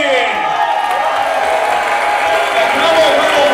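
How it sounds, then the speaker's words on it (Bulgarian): Loud, full crowd din of wedding guests applauding at a celebration in Kableshkovo. Clapping and cheering voices blend into one dense, continuous wash that stays up close throughout. "Аплодисменти!"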